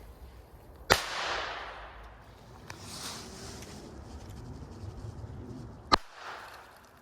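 Two sharp, loud bangs from small firecrackers several seconds apart, each followed by a hissing, splashing tail as water sprays, outdoors with no one talking.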